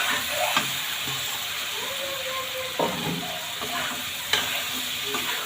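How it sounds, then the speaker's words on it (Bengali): Fried potatoes tumble into a pan of cooked-down masala for aloo dum, setting off a steady sizzle with hiss and occasional stirring clinks and scrapes, close and continuous without talk. "এখন আমি এর মধ্যে ভেজে রাখা আলুগুলো দিয়ে দিচ্ছি।"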